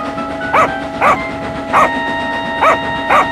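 Dog named Lucy barking in a railway storybook scene, five sharp yelps spaced roughly half a second apart, loud and close over a faint steady hum with light rail noise.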